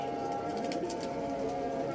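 Golden pigeons coo softly and steadily over a constant hum of background noise.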